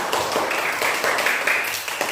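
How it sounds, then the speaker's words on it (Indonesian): Students in a classroom clap for a group that has just finished presenting, a brisk continuous patter of many hands at fairly close range, with no voices standing out. "Oke, tepuk tangan dulu untuk kelompok mereka."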